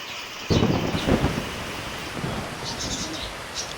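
Rain begins falling under a darkening sky with a low rumble of thunder, a broad steady hiss of rain building after a sudden onset and continuing throughout.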